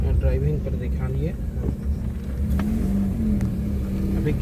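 A car engine hums low and steady while the car rolls slowly in third gear, with someone talking over it throughout.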